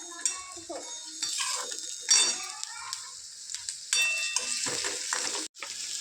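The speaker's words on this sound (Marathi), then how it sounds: "हा जो दोडका आहे तो मी कांद्यामध्ये भाजून घेते" Ridge gourd fries in a pan with onion, tomato and turmeric, a soft sizzle under scraping and stirring of a utensil against the pan, with occasional clinks, close by and moderately loud.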